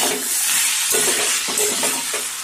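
Spice masala fries in hot oil in a pan for a vegetable curry, a steady loud sizzle broken by several scraping stirs of a spoon.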